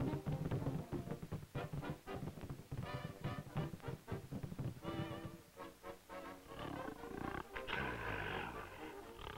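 A cartoon lion roars repeatedly in loud, rumbling bursts, with lighter growls between them and a dense, noisy background throughout.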